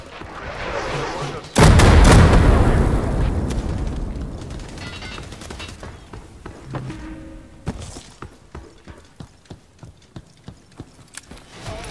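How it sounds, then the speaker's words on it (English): Mortar strike in the tactical shooter Hired Ops: a sudden loud blast with a rumbling decay, followed by scattered sharp cracks and distant shots, with no talking. "Preparing a mortar strike."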